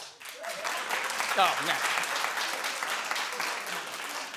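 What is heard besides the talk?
studio audience clapping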